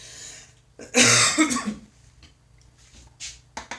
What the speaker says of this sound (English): Excuse all the coughing.